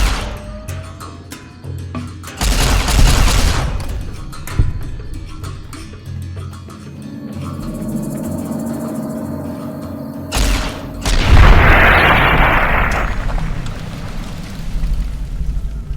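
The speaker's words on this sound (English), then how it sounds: "Recharger pistol." Recharger pistol firing in a video game on very hard difficulty: loud bursts of energy shots come in a few separate volleys, with a rumbling background of game effects between them.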